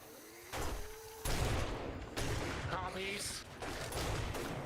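Several booming shotgun blasts fire in the zombie survival game 7 Days to Die. The shots land as loud broadband bursts with pauses between them, under speech and game effects.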